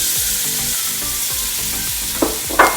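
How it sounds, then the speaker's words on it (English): Onions hit a hot pan and fry with a loud, steady sizzle, joined near the end by a couple of sharp clacks of a utensil against the pan. "Now we're going to add our onions."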